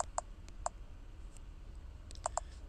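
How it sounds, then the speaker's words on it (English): A handful of light, separate keystroke clicks on a computer keyboard, quiet and spaced apart, with two quick pairs near the start and end and stillness between them. "so let me just type it in."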